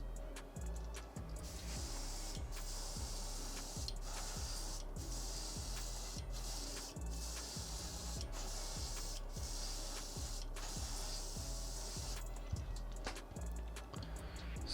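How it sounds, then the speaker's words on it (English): Airbrush spraying paint onto a fishing lure bait, an irregular series of short, sputtering hissy bursts, close and fairly soft, with no talking. "Spraying kind of sporadic here."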